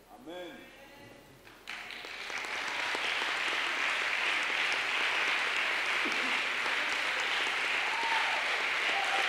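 Congregation in a church breaking into sustained applause and cheering, rising sharply after a brief spoken phrase and holding steady and loud to the end, with voices shouting within the clapping.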